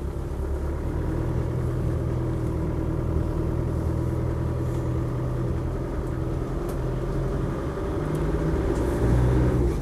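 The 300Tdi diesel engine of a Land Rover Defender 90 runs steadily at idle, a low throbbing rumble close by, even and constant, rising slightly near the end.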